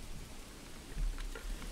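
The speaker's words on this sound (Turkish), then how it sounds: "Ne güzel yağmur yağıyor öyle hey maşallah." Steady, soft hiss of rain falling in the medieval strategy game Manor Lords, an even wash of drops with no voices.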